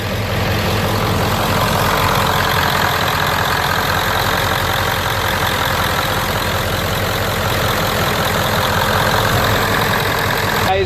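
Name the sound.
1997 Ford F-250 7.3L diesel engine idling before engine flush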